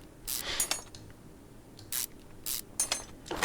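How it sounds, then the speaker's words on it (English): Brake caliper bolts are removed in the video game Car Mechanic Simulator 2021, heard as several short, bright hissing bursts, like a pneumatic wrench, spaced irregularly and separated by quiet pauses. "But now let's just remove the bolts."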